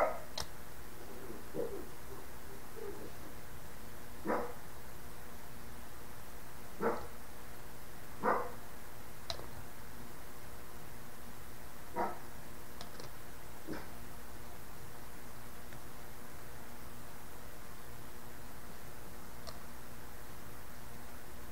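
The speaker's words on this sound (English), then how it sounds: "Oh my gosh, my dog's barking." A dog barks indoors somewhere off in the house, a scattered series of short, faint barks spread over about twenty seconds against a quiet steady hiss, with no talking.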